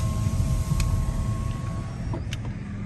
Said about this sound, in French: on entend juste le vrombissement d'électrique.